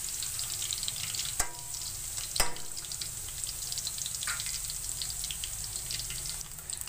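Gawar phali (cluster beans) frying on a low flame give a steady soft sizzle throughout, broken by two sharp utensil clicks early on and a faint scrape later, with no talk.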